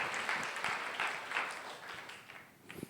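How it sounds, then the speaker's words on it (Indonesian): A church congregation claps for Jesus during a sermon, a broad wash of hand claps that fades toward the end, with faint voices mixed in. "Tepuk tangan untuk Tuhan Yesus"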